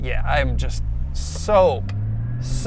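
A Porsche Cayman GT4 with a manual transmission drones with a steady low engine note throughout, swelling briefly near the middle and end, while someone talks over it.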